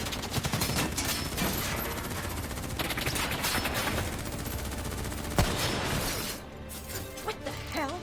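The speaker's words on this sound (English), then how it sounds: "Who's shooting?" In the video game Black Ops III, heavy sustained gunfire rattles continuously with machine-gun bursts and shattering impacts, loud and dense for about six seconds before it thins out, with a lone louder shot near the end of the burst.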